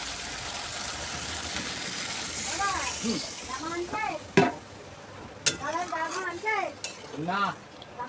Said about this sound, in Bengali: আর এর থেকে বেশি করতে গেলে সর্ষেটা পোড়া লেগে যাবে, আর যেই সর্ষে পোড়া লাগবে তখন পিতো লাগবে সর্ষেটা। একটু জল দিয়ে দিই তাহলে।